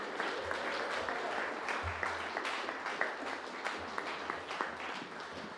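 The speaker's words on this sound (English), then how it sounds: "So everyone, give yourself a round of applause." Congregation at a volunteer-celebration church service applauds steadily, a dense wash of many hands clapping at moderate distance, sustained throughout with no voices on top.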